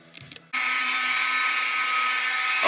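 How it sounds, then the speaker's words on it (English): A Dremel rotary tool cuts a throttle cable on a Triumph MKIII Spitfire. After a short rustle it spins up into a loud, steady high-pitched whine that holds to the end. "let's get the Dremel over here and cut that"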